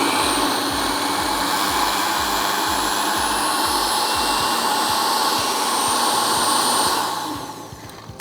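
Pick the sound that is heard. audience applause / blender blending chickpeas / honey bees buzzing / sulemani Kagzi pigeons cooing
blender blending chickpeas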